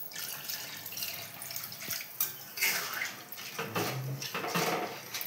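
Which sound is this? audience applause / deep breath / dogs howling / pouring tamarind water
pouring tamarind water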